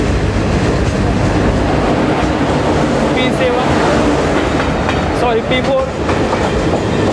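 A parcel goods train with LHB coaches passing alongside a moving passenger train, heard as a loud continuous rumble with rhythmic wheel clatter, a brief spoken word occurring in it.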